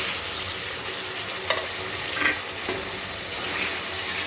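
Tomatoes frying with browned onion and ginger-garlic paste in a pan for chicken karahi, a steady loud sizzle with occasional stirring scrapes and no talking.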